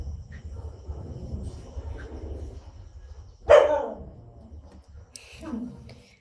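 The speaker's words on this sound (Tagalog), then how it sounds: "Ingay ng aso talaga." A dog barks at a distance, with a sharp bark and then a second, quieter one a couple of seconds later. Faint speech and a low background hum are heard, and insects chirp softly.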